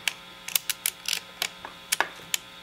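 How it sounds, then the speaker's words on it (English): A film developing reel spool spun by hand, giving a quick run of light, irregular ratcheting clicks, close and fairly quiet, with no voices. "so what we're going to do is kind of manually just spin this spool to tighten up"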